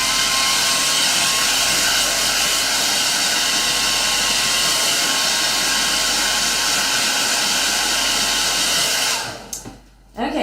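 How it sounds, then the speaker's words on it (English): A handheld blow dryer runs close up to dry stencil paint, holding a loud, steady whirring roar with a constant motor whine, then cuts off abruptly near the end and briefly starts again. "I can go over to my blow dryer"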